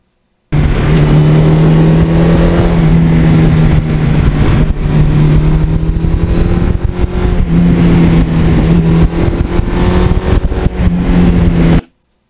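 A Suzuki GS1100E motorcycle engine pulls steadily under acceleration on a test ride, with a loud, close, continuous drone that holds a strong engine tone throughout and cuts off cleanly at the end.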